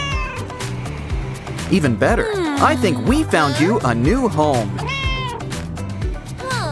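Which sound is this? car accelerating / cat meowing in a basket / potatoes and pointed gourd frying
cat meowing in a basket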